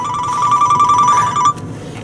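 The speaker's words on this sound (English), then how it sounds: "People are calling and calling and texting, and I can't answer the phone." A cell phone rings with a repeating electronic two-tone trill, loud and close, cutting off abruptly near the end, with faint background hiss and no talk.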